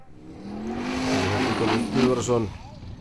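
A Formula Offroad race car's 2.4-litre Honda engine revs hard and climbs in pitch, loud and close, with a voice partly mixed in.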